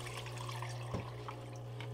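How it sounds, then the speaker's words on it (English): Steady water flow runs through a DreamMat Micro Pocket Sluice, a constant rushing wash with a low hum underneath and one brief splash near the middle. "Making sure we got enough water flow going through the sluice, not too much that we're blowing anything out."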